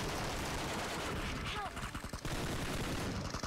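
M249 gunfire in PUBG gameplay: loud, sustained rapid bursts of automatic fire with a short gap in the middle and no talking.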